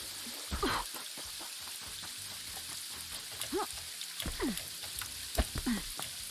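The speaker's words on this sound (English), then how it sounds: "Oh, the rain stopped." Patter of rain in the video game Paradise Killer, a soft hiss dotted with scattered drip and splash sounds.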